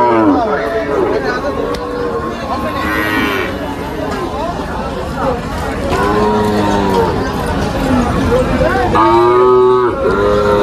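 Cattle at a busy livestock market moo repeatedly, several loud drawn-out calls from nearby animals over a constant crowd babble, with people talking close by throughout.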